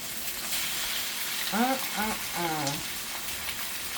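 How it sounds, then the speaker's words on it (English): Onions frying briefly in a pan with liver steaks and bacon nearby, a soft continuous sizzle under a short stretch of talking. "I'm just gonna give them a little fry because I don't want my onions to cook up too much."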